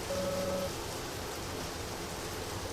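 Continuous rainfall ambience in the video game Deadly Premonition: an unbroken, moderately loud wash of hissing noise, with a short electronic tone over it at the start.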